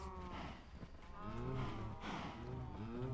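Several cows in a Minecraft farm moo in overlapping, drawn-out calls, one after another with no pause, close and fairly loud.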